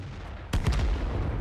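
A tank cannon fires in World of Tanks, a single sharp, loud boom with a short rumbling tail over steady battle background noise.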